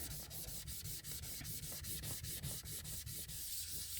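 Paint is scrubbed off a terra cotta piece in a steady rhythmic back-and-forth rubbing, with about three strokes per second, close and quiet, and no voices.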